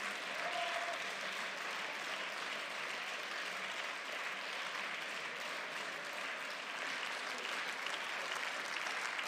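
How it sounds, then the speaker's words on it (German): Sustained applause fills a parliamentary chamber during a debate session. The clapping is steady and dense, with many hands heard at a moderate distance, and it continues unbroken with no speech over it. "der Applaus wird vielleicht jetzt etwas schwächer werden"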